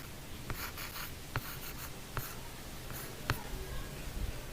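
A pen writes a chemistry formula by hand on a board or paper, producing a steady scratchy stroke sound broken by several distinct taps, close and fairly quiet.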